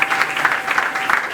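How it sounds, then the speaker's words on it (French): A church congregation at a Sunday service claps for Jesus, a dense, loud wash of applause filling the room throughout, without audible talk. "Acclame pour Jésus maintenant."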